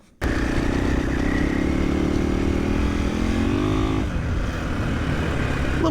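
A 2024 KTM 500 EXC-F dirt bike's single-cylinder engine runs steadily and close by, a continuous buzzing drone with a slight dip in pitch near the end, with no talk over it.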